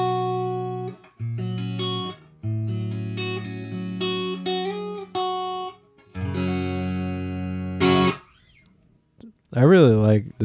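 A Washburn 4N electric guitar through a clean amp plays a chord progression, sustained chords ringing out with brief pauses, ending in a wobbling bent note.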